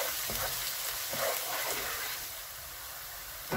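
Garlic and ginger sizzle steadily in hot oil in a pan for a chicken curry, a continuous bright crackle with occasional stirring sounds.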